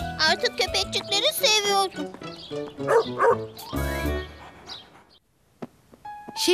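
A cartoon dog gives several quick, high-pitched yips and barks in short bursts, mixed with chirpy squeaks, loud and close, before a brief quiet stretch and a couple of final sounds.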